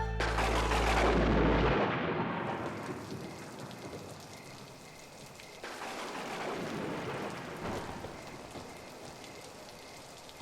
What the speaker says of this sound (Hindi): एकदम घमासान बारिश हो रहा है। ये बारिश रुकने का नाम ही नहीं ले रही है